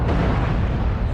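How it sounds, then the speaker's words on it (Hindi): A cartoon volcano eruption roars as one loud, continuous, rumbling blast that fills the whole moment without a break. "वोल्केनो का विस्फोट हो रहा है"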